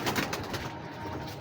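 Pigeons coo softly and steadily at close range in a Pakistani breeder's home loft, with no talk over the calls.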